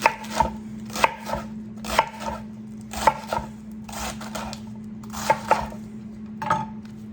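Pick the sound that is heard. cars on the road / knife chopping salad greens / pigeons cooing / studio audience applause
knife chopping salad greens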